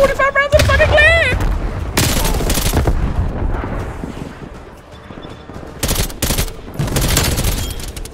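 Video game gunfire in Black Ops Cold War comes as dense, loud bursts of rapid rifle shots and booms. A voice is talking excitedly over the shooting.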